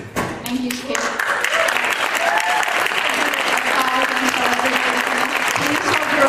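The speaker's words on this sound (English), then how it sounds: "Please hold your applause until everyone is finished." Audience applause fills a League of Women Voters candidate forum for Commissioner of Public Works and Mayor, a steady dense clapping that holds loud through the whole stretch with faint voices underneath.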